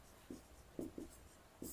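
Chalk writing a definition on a classroom board during an economics lesson: a few quiet, scratchy taps and strokes in short bursts, with room tone between them and no speech.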